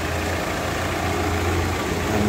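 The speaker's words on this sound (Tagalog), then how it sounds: "Gandang makina, walang usok, walang tulabsik." A 2013 Foton Thunder pickup's diesel engine idles steadily, a loud close low rumble with continuous vibration and no change in pace.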